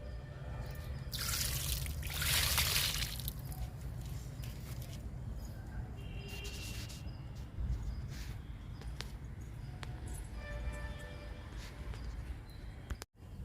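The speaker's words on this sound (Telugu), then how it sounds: "వాటర్ ఇస్తున్నా ఈ మొక్కకు కూడా." Water trickles and pours steadily into a potted plant in a garden of flowering plants, a continuous soft splashing with a louder gush early on and a brief clatter near the end.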